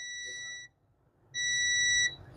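A multimeter's continuity buzzer sounds twice during a mobile phone circuit test, a steady high electronic beep lasting over half a second, a brief pause, then a louder second beep, close to the microphone.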